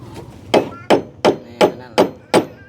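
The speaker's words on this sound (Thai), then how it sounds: "ตอกไม้ครับ" Hammer blows on wood, seven sharp evenly spaced strikes about every third of a second, close and loud, each ringing briefly before the next.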